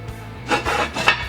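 A metal lid set onto a cooking pot before it goes into the oven, heard as a short series of close scraping, rubbing contacts.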